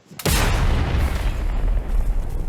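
A single loud, deep blast from an M777 howitzer erupts after a brief quiet moment, followed by a long rumbling roar that slowly fades.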